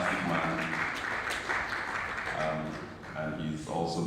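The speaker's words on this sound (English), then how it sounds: "Please give him a round of applause" An audience at a One Health and biosecurity conference applauds the Commissioner for Health, steady clapping from many hands, fairly faint, with talking over parts of it.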